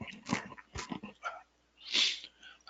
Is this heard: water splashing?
no